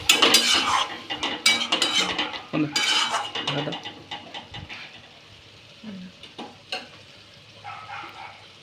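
Masala for a home-style country chicken curry with potatoes being stirred and sautéed in a pot, with turmeric and a splash of water, scraping spoon clatter over a low sizzle, close and busy, fading to softer stirring.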